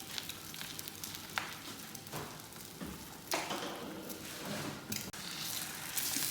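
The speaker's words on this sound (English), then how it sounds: "we've got 6 eggs in the frying pan" Faint sizzling and crackling from six eggs frying in a pan, with occasional soft scrapes and pops, quiet and continuous without any talking.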